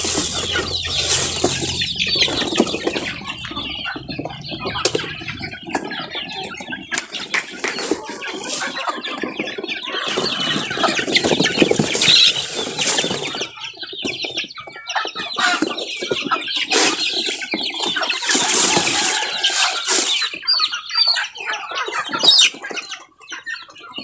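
Native chickens and small chicks on a mini farm cluck and squawk busily while being fed, with wing flaps and scratchy rustling, loud and close throughout with no talk.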